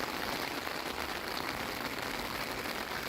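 Heavy rain pouring down on a Texas evening, a dense, steady hiss of drops drumming on surfaces, loud and continuous with no gaps.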